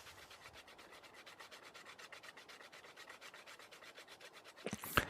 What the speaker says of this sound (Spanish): Tendremos que devastar las zonas más ásperas, incluyendo los contornos rugosos de la corteza.